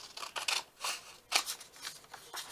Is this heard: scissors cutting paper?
yes